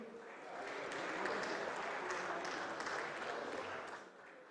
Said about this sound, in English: can we have a round of applause for the lone Englishman?